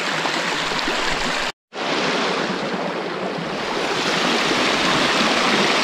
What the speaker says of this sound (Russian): И вот она дальше течет уже нормальной рекой.